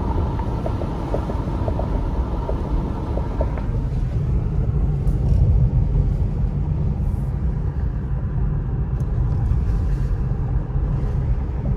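A car drives through Big Bear after heavy snowfall, its steady low engine and road rumble filling the cabin continuously, with faint rattles early on and no speech.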